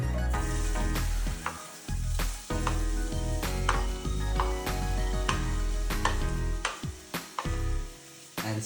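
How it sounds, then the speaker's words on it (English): Diced onions sizzle in oil in a pan over low heat, a loud steady fry with repeated sharp clatters and scrapes of stirring throughout, no voices. "Then we'll be adding our diced onions to the pan."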